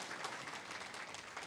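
An audience at a Buddhist memorial ceremony marking a 70th anniversary gives faint, distant applause, a soft and even patter of clapping.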